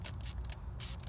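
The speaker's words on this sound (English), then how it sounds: "just kind of spray it on as you go" Cquartz Fabric Leather cleaner is spritzed from a trigger bottle onto the interior of a 2013 Lexus GS350 F Sport: a few short, quiet hissing bursts separated by pauses.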